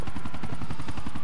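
A helicopter in Grand Theft Auto 4 thumps close and loud, its rotor beating in a fast, even pulse over a constant engine roar.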